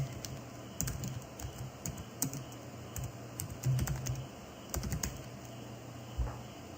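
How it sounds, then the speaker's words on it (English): Someone types on a computer keyboard nearby, irregular bursts of quick key clicks with short pauses, quiet and alone with no talking. "just double click it and type in your text"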